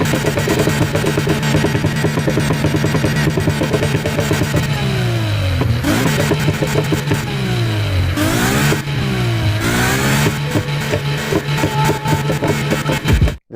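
In the racing game Need for Speed Heat, a car engine and exhaust drone loudly and steadily, then rev up and down in repeated swooping sweeps as the car accelerates and shifts, with no talking.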